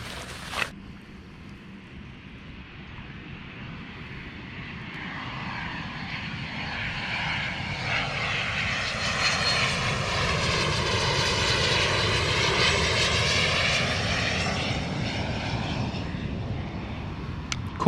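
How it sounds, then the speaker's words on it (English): A propeller airplane passes overhead during a rainy bass-fishing outing, its drone swelling gradually from faint to loud and then easing off, with no talking. "Cool plane."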